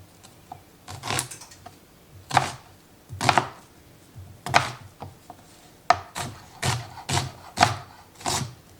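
A knife roughly chopping onions on a cutting board for homemade salsa, with close, loud, rhythmic chops arriving in quick bursts of about ten strikes and no talking.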